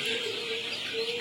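Sonali chickens, 41 days old, cluck and call briefly nearby in a short burst, a moderately loud fowl vocalization with no speech over it.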